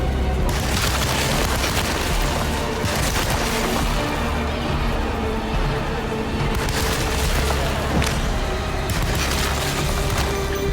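Gunfire in a video game while fighting the Whumping Tree, heard as loud, dense booming bursts over a constant roar of game sound, with no clear breaks.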